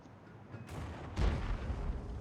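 A tank cannon firing in the World of Tanks match on Mannerheim Line, a sudden heavy boom that rolls out with a long rumbling tail amid steady game noise, with a smaller report just before it.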